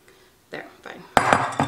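Blueberry muffin batter being mixed in a bowl, heard as a few scraping and knocking strokes of a utensil against the bowl, growing louder and clinkier toward the end.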